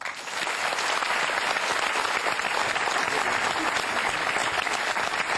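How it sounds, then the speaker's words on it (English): A crowd applauds steadily, a dense wash of clapping that holds strong and even throughout without pause. "please give yourselves a quick round of applause"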